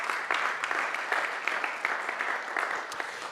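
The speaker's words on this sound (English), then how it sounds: "That's your applause." A conference audience at the M100 Sanssouci Colloquium applauds a moderator, a steady, moderately loud roll of many hands clapping that holds evenly and tapers slightly at the end.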